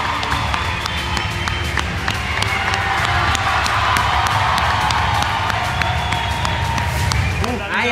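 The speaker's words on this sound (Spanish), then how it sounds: "¡Aplausos para los dos, por favor," A large audience in Barcelona at La Velada del Año 4 applauds and cheers for two guests, dense, loud clapping mixed with shouts and crowd roar that holds steady throughout.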